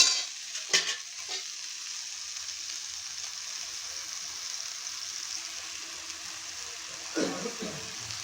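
Masala with salt and turmeric sizzles in a pan for a hilsa fish head and banana flower dish, a quiet steady frying hiss broken by a few spatula scrapes near the start and end, with no speech.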